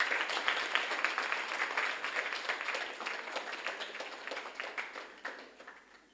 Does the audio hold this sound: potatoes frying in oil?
no